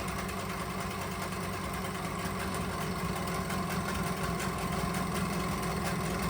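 A boat engine idles steadily and loudly close by, a constant droning mechanical hum with no break and no voices.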